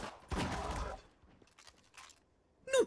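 A weapon reloading in a video game: a burst of mechanical clacking and rattling, then lighter clicks and scrapes, ending in a sharp metallic snap.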